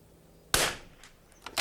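A .22LR rifle fires one sharp, loud shot outdoors. A couple of faint distant pings follow as rounds strike a steel barrel about 94 yards away.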